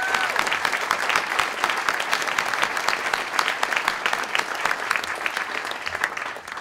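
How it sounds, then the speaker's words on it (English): Sustained applause from a gala audience at a think tank's fifth anniversary dinner, dense and even clapping that fills the room for several seconds, fading slightly near the end, with no talking over it. "give a round of applause to Caitlin Wise and to Sarah Hale"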